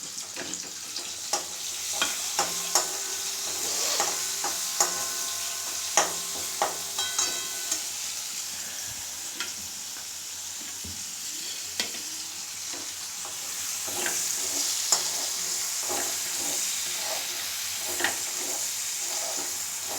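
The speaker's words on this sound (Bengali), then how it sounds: "পেঁয়াজটা একটু লাল করব" Two large onions, added with a couple of bay leaves, fry in a pan for a Mughlai chicken, with a steady sizzle and repeated sharp scrapes and knocks of stirring throughout.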